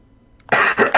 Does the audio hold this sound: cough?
yes